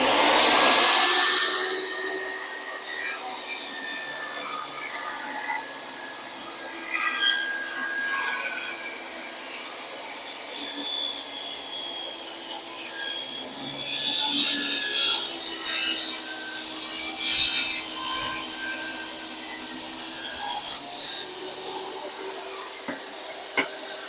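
A handsaw rasps steadily through cedar wood in long, rough strokes, close and loud, continuing for about twenty seconds before stopping.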